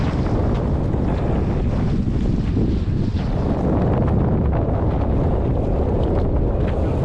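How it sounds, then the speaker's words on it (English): Strong wind buffets a small boat crossing Florida Bay, a loud, continuous roar of wind against the microphone mixed with rushing water and wave noise, with no speech. "that wind did fill in. It's coming pretty hard off to the right there."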